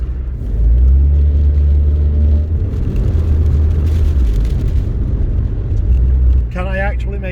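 Storm Eunice wind rumbling with a steady low roar throughout, loud and close, under a person talking nearby.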